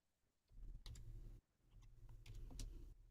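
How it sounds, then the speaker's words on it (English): Two bursts of typing on a computer keyboard, quick clustered clicks and key taps separated by a short pause, close and fairly quiet with no talk. "I'm typing in somebody an answer."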